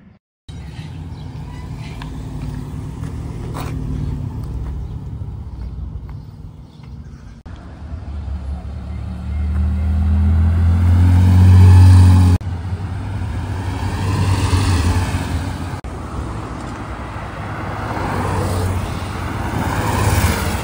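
A sports car, a Tecnica on semi-slick tyres, passes during carspotting at Gérardmer. Steady road noise swells to a loud, close peak as it goes by, then eases into a continuing engine roar.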